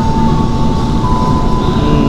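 A commuter train arriving at Cikarang station rumbles steadily with a low, continuous roar and a faint sustained tone above it, loud and close, with no voices.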